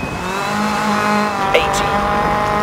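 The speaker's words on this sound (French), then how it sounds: "Vous entendez ce bruit de métal qui frotte." A rally car engine in the game DiRT 4 drones steadily with a harmonic whine, and a brief metallic squeal of rubbing brakes cuts in partway through, loud and close.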